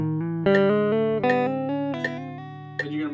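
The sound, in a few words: guitar selective picking exercise with hammer-ons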